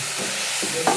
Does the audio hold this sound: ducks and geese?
no